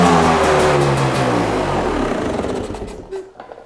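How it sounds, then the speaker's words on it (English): A motorcycle engine with a repaired carburetor throttle slide revs loudly up close, then the pitch falls away as the throttle closes and it settles toward idle. "I can hear my throttle coming here."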